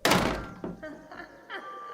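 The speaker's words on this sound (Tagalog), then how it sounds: "padabog nitong isinara yung pinto ng CR." A hospital bathroom door slams shut with a loud, close thunk, followed by fainter rattles and a couple of softer knocks as it settles, alone without talk.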